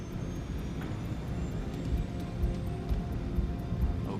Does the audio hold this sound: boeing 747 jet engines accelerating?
yes